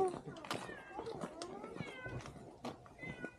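A cat meows repeatedly in short, rising cries close by in a parking area on a cliff outing, while people talk at the same time.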